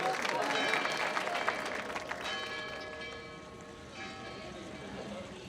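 A crowd claps steadily, loudest at first and then thinning out, with some ringing tones and a few voices mixed into the noise.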